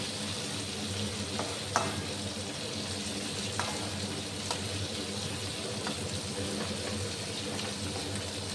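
Potato pieces and soybean chunks fry in oil in a pan, making a steady close sizzle punctuated by a few sharp clicks of stirring.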